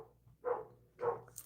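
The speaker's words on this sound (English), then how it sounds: "that's a 150-pound dog named Loki." A 150-pound dog gives two drawn-out whimpering cries, close by and fairly soft, with a low hum behind them.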